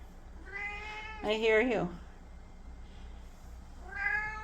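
Sasha Boo, a cat nearly 24 years old, meows close by indoors: a short call, then a longer wavering one, and a third later on, while a person speaks softly between them.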